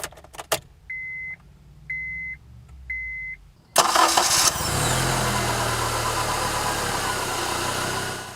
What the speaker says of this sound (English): Put the key in the ignition and we can listen to the K24 fire up.